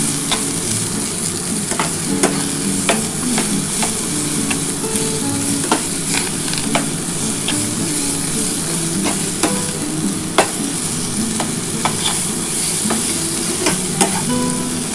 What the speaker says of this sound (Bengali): এবার এই ধনে পাতাটার সাথে ভালো করে নাড়াচাড়া করতে হবে।